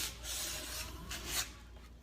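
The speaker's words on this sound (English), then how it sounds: "Then I sanded the entire thing down." Rasping strokes of sandpaper work over a real cherry wood chair seat, stripping old varnish, several close, steady back-and-forth rubs with no talking.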